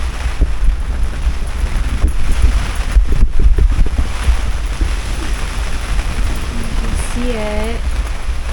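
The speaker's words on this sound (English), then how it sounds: "the wind has been just blowing like" Strong wind buffets a tent at a camp in Greenland, a loud, rumbling roar with gusty surges and flapping thumps close to the microphone, as someone briefly speaks near the end.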